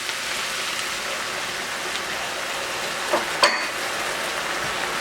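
Wine poured into a hot pan of chicken cacciatore with softened vegetables and tomatoes, a steady hissing sizzle like light rain, with a couple of small clinks partway through.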